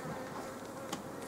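Honey bees buzz around a hive at a spring apiary, a quiet, steady droning hum with one brief louder burst near the end, heard alone.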